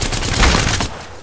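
Dense automatic gunfire from an Apex Legends firefight, a loud continuous burst of rapid shots lasting most of the moment before cutting off, heard on its own without talk.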